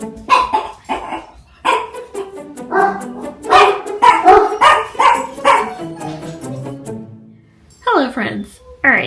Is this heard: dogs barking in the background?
yes